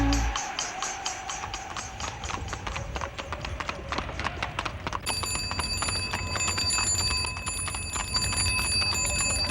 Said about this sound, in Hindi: ये घोड़ा जो सामने चल रहा है ना?